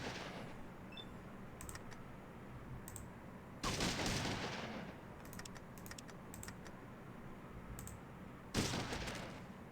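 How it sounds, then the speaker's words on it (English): Shotgun burst fire in the video game Fallout 2, three sharp loud blasts spaced a few seconds apart, each followed by a short decaying rumble over a steady background bed. "I burst fire my shotgun"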